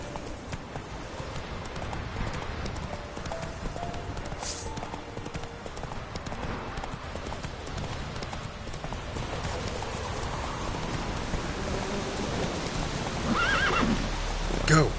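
A horse in the Witcher 3 video game clip-clops at a steady gallop and whinnies, with hoofbeats running continuously over a rain-like hiss and a louder burst near the end.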